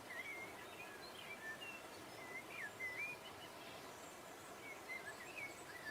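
Small birds chirping and whistling in a forest, thin high calls repeating at a moderate distance over a soft, steady background hush, with no voices.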